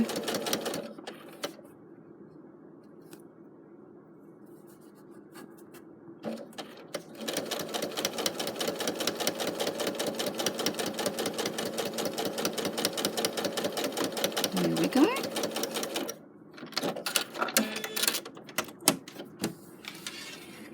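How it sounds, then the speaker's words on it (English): A sewing machine stitches a zip into a fabric pouch, a fast steady mechanical whir that starts, stops and runs again in long bursts, close and clear, with a brief spoken remark near the end. "And there you have your zip sewn in with a beautiful seam there."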